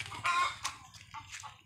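Chickens kept near a pigpen cluck in short, choppy bursts, several close calls spread unevenly across a brief moment with quiet gaps between them.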